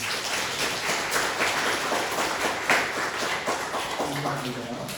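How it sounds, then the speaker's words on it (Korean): A church congregation applauds to welcome a newly registered member, a steady wash of many hands clapping throughout, with a voice starting to speak near the end. "박수로 환영해 주십시오."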